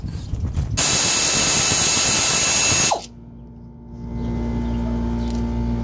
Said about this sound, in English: So now I'm gonna go and take the bottom bolts off.